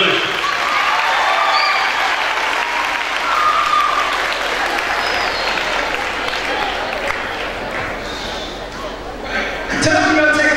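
Sustained, loud applause from an audience after a speech at a summit, a dense continuous roar of clapping with cheering, ending with a voice breaking in near the close.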